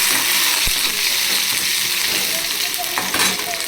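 Chopped small onion sautéing in hot oil with fried chana dal in a pan for a vendakkai poriyal, a steady close sizzle broken by a few stirring scrapes and clicks, with no talking.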